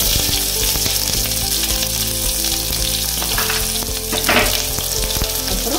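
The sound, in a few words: onions frying in oil with spices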